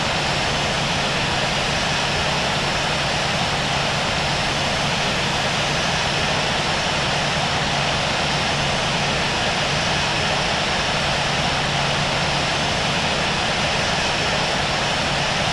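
Airliner jet engines idle while taxiing toward a runway in the Infinite Flight simulator game, a steady broadband roar and hiss holding at constant loudness throughout with no voices.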